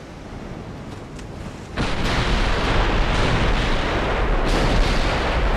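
Naval gunfire from 6-inch guns in Ultimate Admiral: Dreadnoughts, an 1890-era battle: a rumbling wash of cannon reports jumps up in loudness partway through and then carries on as a dense, continuous barrage.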